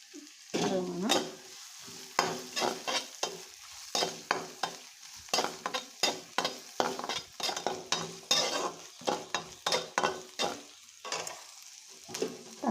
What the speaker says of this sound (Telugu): మగ్గని కొద్దిగా వేగనిచ్చి అల్లం వేస్తున్నానండి.